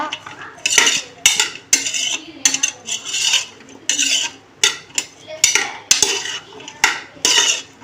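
A metal spoon scrapes and clatters against a pan as cauliflower and mixed vegetables are sautéed for vegetable biryani, about a dozen close, sharp stirring strokes in an irregular rhythm, with no talking.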